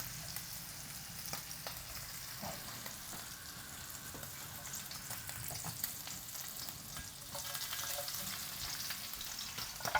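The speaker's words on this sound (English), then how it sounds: "Let's cook off the garlic." Garlic fries in a pan alongside chicken legs, crackling and sizzling steadily at low volume, with occasional light stirring taps and pops and no voices.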